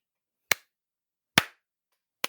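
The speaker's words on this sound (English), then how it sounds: "you just hear clapping." Three sharp, isolated claps ring out in a quiet room, spaced about a second apart. Each one is crisp and moderately loud with a short decay.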